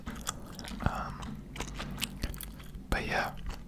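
Gum being chewed close to the mouth, with soft wet smacks and a few crisp clicks spread across a few seconds, under faint whispery talk.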